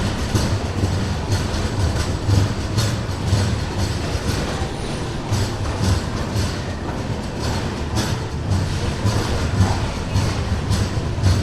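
Kacheguda–Mysuru SF Express LHB train at platform 1 of Mahabubnagar station, a steady loud rumble with rhythmic clickety-clack of wheels over rail joints repeating throughout, heard close and alone without talk.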